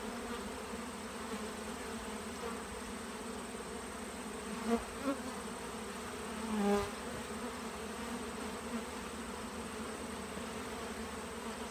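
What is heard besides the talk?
honey bees buzzing at the hive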